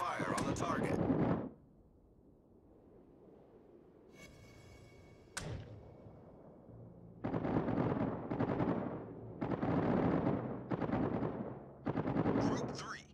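Gunfire concentrated on a target, with a burst of crackling shots early on, then long stretches of heavy, rumbling rapid fire that come and go in loud waves, sounding like sustained combat.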